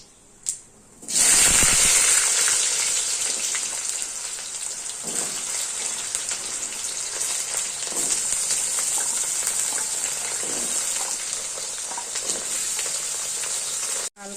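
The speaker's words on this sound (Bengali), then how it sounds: "আলু কচুর গাঠটিগুলো যে কাটা আছে ডুম ডুম করে প্রথমে এগুলো একটু ভেজে নেবো" Diced potato and taro pieces hit hot oil with cumin and dried chilli, giving a sudden loud burst of sizzling that settles into a steady, close, crackling fry with a few soft scrapes.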